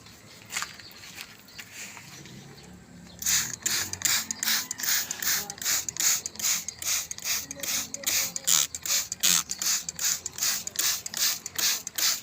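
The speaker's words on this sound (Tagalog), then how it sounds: "Tubig lang itong in-spray ko" A hand spray bottle squirts water onto Olmetie seeds, a long run of short, evenly spaced hissing pumps that are close and fairly loud, starting after a few seconds of quiet rustling.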